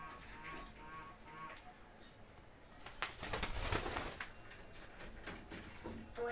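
Pigeons kept in a home loft coo softly and flap their wings, with a louder burst of wingbeats in the middle and quieter cooing throughout.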